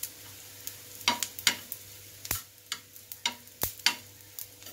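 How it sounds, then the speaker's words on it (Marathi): Coriander seeds roast in a little oil in a pan, giving a faint background sizzle broken by scattered crisp pops and scraping stirs at an uneven rhythm, close by with no talking. "धने व्यवस्थित भाजून घ्यायचे"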